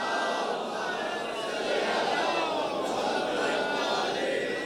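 A congregation reciting salawat aloud together in a hall during a majlis, a dense, sustained crowd of voices chanting in unison without pause.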